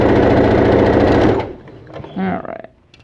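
A sewing machine runs fast along a scarf seam, a loud close mechanical whirr that stops abruptly after about a second and a half, with a voice speaking briefly afterward.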